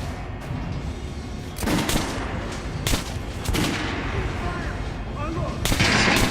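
Gunfire in the video game Metro: Last Light Redux, shots aimed at a target dummy on a shooting range: several loud, sharp bursts ring out at irregular intervals over a dense game background, close and prominent.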